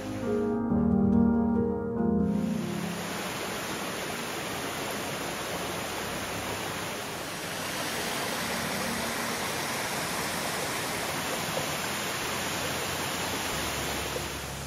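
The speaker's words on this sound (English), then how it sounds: "right there is the top of Bandy Creek Falls" Steady rushing roar of Bandy Creek Falls in Big South Fork, water dropping into a deep horseshoe-shaped cut; a constant broadband wash with a brief louder burst at the start.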